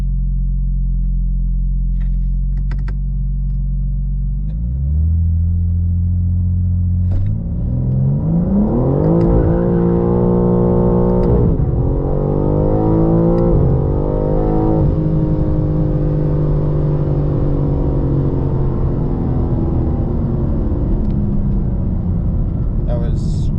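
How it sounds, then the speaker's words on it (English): A 2025 BMW M4 CS launching hard from standstill in a 0-100 run, engine rising steadily in pitch, briefly dropping at a gear change, then climbing again in a loud, continuous rumbling roar from inside the cabin. "So it spins the wheels when you click it into second gear"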